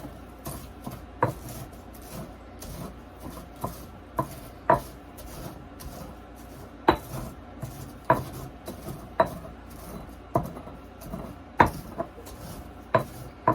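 Cleaned eggshells crushed in a bowl, giving sharp crunching clicks and taps that come at irregular intervals, close and fairly clear over a quiet background.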